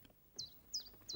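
A small bird gives three quick, high, faint cheeps, evenly spaced over about a second, against a quiet background.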